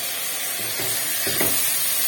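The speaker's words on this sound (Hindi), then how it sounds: "अब इसके अंदर मैं बोनलेस चिकन डाल दूंगी" Boneless chicken hits a pan of softened garlic, ginger and onion, sizzling in a loud, steady hiss of frying with stirring scrapes over medium heat.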